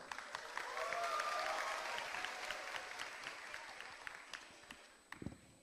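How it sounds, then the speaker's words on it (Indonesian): Audience at a stand-up comedy show claps in a sustained, fairly faint wash of applause that slowly tapers off, with a few sharper knocks near the end. "Wih, tepuk tangan buat Bang Temon dong"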